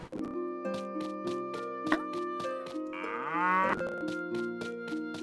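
In the farming video game Innocent Life, a cow moos loudly over looping game music with steady rhythmic beats, and a cowbell-like jingle also sounds.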